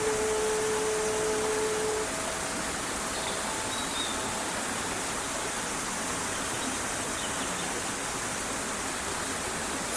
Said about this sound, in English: let us all enjoy the sound of the waterfalls together.